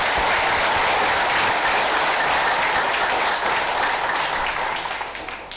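Audience applause at a ceremony handing over Qur'ans at the Gorontalo provincial religious affairs office, a thick sustained wash of clapping that fades out toward the end.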